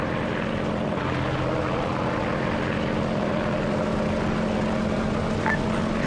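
The engine of a biplane in the military video game Arma 3 drones steadily and loudly, a continuous propeller hum that fills the whole stretch without a break and with no talk over it.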